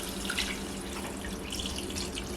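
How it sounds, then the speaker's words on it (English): Water pouring steadily from a kettle into a cooking pot of Jamaican fricassee stewed chicken, a continuous close splashing stream with no talk over it. "I add water from my kettle, mix it in, and now I'm gonna add it to my pot."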